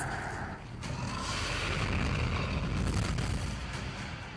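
Gunfire in a Skibidi Toilet zombie-universe animation: a dense, continuous roar of shots and booms filling the whole stretch, loud and sustained like heavy rapid fire with blasts layered in.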